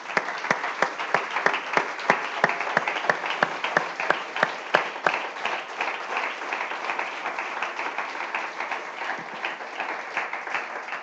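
A church congregation claims a round of applause, many hands clapping in a brisk, crisp rhythm that is loudest at the start, then thins and softens toward the end.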